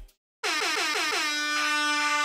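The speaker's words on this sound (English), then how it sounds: "air horn." An air horn effect triggered in Serato DJ Lite DJ software: a loud, brassy blast that stutters through several quick repeated pulses, then holds as one long sustained tone, heard alone.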